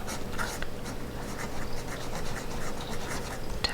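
A fountain pen filled with Diamine ink scratches across paper in short close strokes, a steady fine rasp with small pauses and a light tap near the end.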